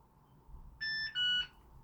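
A Yale Conexis L2 smart lock gives two short electronic tones during setup, a higher beep followed by a slightly longer one, clear and close against a quiet room.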